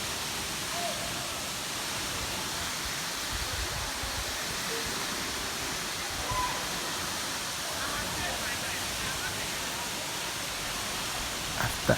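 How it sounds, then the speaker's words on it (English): A forest waterfall roars as a steady, broad wash of falling water, continuous and fairly even throughout, with a couple of faint brief knocks near the end. "we finally arrived at the waterfall"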